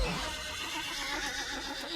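A horse in a video game neighs loudly in a single shrill, wavering whinny lasting about two seconds, with no talk over it.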